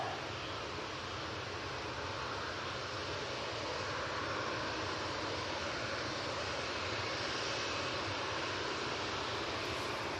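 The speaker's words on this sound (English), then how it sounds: "This Dreamliner is off to Malaga" A Boeing 787 Dreamliner bound for Malaga takes off from Manchester Airport, a steady, broad jet engine roar held at a constant level for the whole stretch, with no talk over it.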